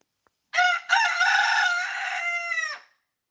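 A rooster crows once, a loud, close, drawn-out cock-a-doodle-doo lasting about two seconds after a short opening note, with nothing else around it.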